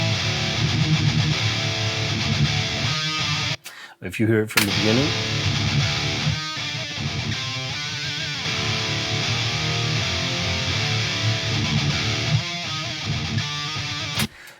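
Distorted heavy metal guitars play a riff dry with no reverb, loud and continuous with choppy palm-muted stops and a brief gap, while someone talks over part of it.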